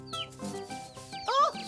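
A cartoon hen clucks in short bursts, voiced by a performer imitating the bird, with a rising squawk near the end.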